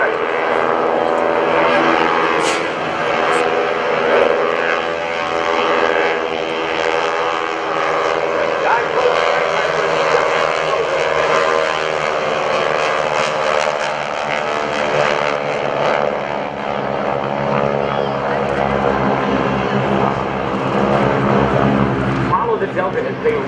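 World War II propeller aircraft flying at a 2011 Air National Guard open house airshow in Rhode Island, a loud sustained engine drone throughout, with a voice speaking over it.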